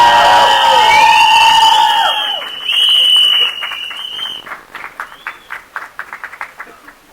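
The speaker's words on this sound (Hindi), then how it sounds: "तालियां सीटियां रुकनी नहीं चाहिए यार" An audience at a promotional event for the film Mere Husband Ki Biwi erupts with loud, shrill whistles and cheering for about two seconds, then the crowd noise fades into scattered, uneven clapping.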